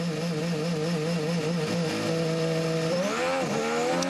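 Formula 1 car at the 2015 Australian Grand Prix revving steadily on the pit limiter, then the engine note climbs sharply as it accelerates away, loud and close with no talk.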